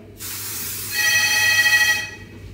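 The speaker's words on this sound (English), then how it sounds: "the phone." A telephone aboard an Emirates first-class aircraft cabin rings with a bright, steady electronic tone for about a second, sitting over a constant broadband hiss of cabin air noise.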